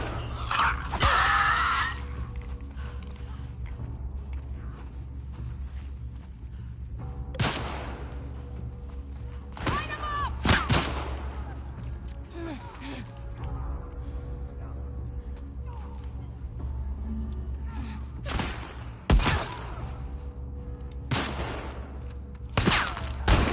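Scattered gunshots in The Last of Us Part II, with a handful of sharp, loud cracks spread over a low, steady ambient hum, separated by long quiet gaps, and a voice talking at times.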